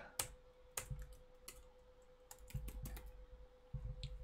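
Scattered keypresses on a computer keyboard, irregular close clicks with pauses between small bursts, quiet over a steady low hum.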